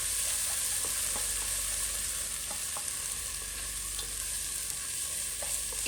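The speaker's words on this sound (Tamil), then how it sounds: "இஞ்சி பூண்டு பேஸ்ட்டையும் சேர்த்து நம்ம இதை வணக்கிக்கலாம்." Ginger garlic paste fries in a pan with a steady, soft sizzle, and a spoon stirs through it with faint scraping taps.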